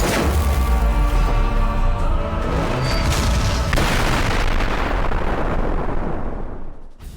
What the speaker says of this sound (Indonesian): Tanya menggunakan mantra peluru ledakan besar yang menghancurkan semua area musuh